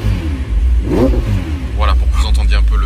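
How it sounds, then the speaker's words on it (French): A McLaren's V8 engine rumbles and is given a short blip of throttle, a deep steady drone rising briefly, with someone talking over it inside the car. "pour que vous entendiez un peu le V8 tourner"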